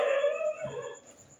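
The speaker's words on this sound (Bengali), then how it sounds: "এত কুকুর ডাকছে" A single dog gives a short, faint howling whine that trails off, heard from a distance in a village setting.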